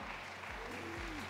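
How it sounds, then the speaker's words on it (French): Audience applause at an awards ceremony welcoming the master of ceremonies, a steady dense wash of clapping throughout the short moment, with a faint tonal hum or music underneath. "Je vous demande de l'applaudir très fort."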